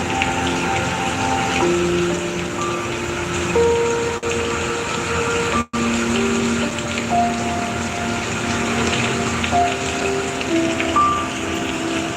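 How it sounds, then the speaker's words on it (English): Rain patters steadily in a loud, even wash, overlaid with soft sustained musical tones that drift in and out, with no voices. "Anyways, it's raining here"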